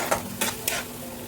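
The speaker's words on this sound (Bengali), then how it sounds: "টমেটো পেস্ট অ্যাড করে ভালো করে কষিয়ে নিতে হবে।" Tomato paste sautéed with spices in a pan for a Bengali chicken keema and banana flower dish, with three scraping stirs of a spatula against the pan over a low, steady sizzle.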